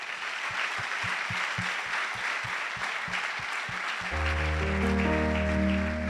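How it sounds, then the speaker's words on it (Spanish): A church congregation claps loudly and steadily, broadband applause filling the room, while a low rhythmic drum or bass thump pulses beneath; around the midpoint, sustained keyboard or organ chords swell in and carry on under the clapping. "Dale un fuerte aplauso al Señor."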